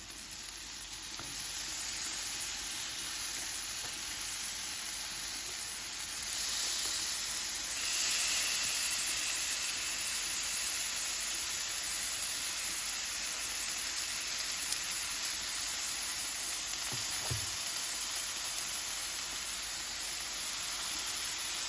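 Ribeye steak for a Philly cheesesteak sizzling on a Blackstone flat-top griddle, a steady close hiss and crackle of frying that carries on unbroken, with a faint clunk near the end and no talking.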